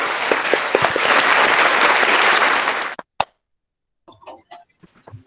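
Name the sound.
audience applause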